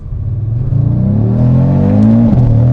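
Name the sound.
Audi car accelerating at full throttle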